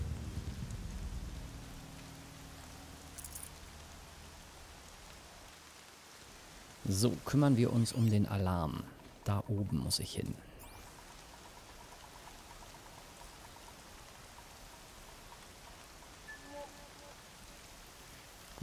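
Steady rain falls in the video game Horizon Zero Dawn, a soft continuous hiss running throughout while someone speaks German, with a louder burst of noise partway through.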